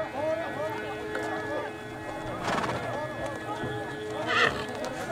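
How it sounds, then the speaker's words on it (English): Horses race at a Nadam festival, with rapid hoofbeats drumming close by and a whinny rising above them as a voice talks over the action. "Horse racing at the Nadam involves several races over various distances."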